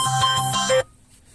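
A mobile phone ringtone sounds inside an MG Marvel R electric car, a loud, bright electronic melody of repeating tones that stops abruptly after under a second, leaving near silence.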